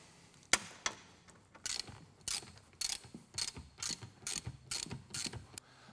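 Ratchet loosening the seat frame mount bolts on a Jeep TJ: a quick series of sharp, close clicking bursts in an uneven rhythm, about a dozen strokes, fairly quiet with no talking.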